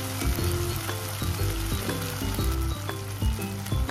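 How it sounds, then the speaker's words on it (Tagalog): A sauce sizzles and bubbles in a pan on the stove while being stirred, with a steady close frying hiss and occasional scraping clicks of the utensil. "Hinalo-halo ko lang ito para maluto siya ng maigi."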